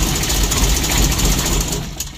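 Diesel engine of a Mitsubishi L300 idles with a knocking, uneven shake, a loud steady rumble close up for a couple of seconds with no talk.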